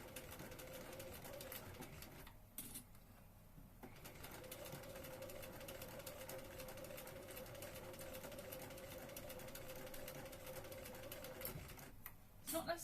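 A sewing machine stitches a Regency dress, a faint, steady whir that runs almost continuously with two brief pauses.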